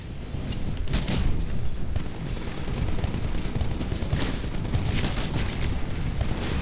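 Gunfire in Titanfall, with dense bursts of rapid shots and booming impacts rolling over a constant loud rumble, intense and sustained throughout.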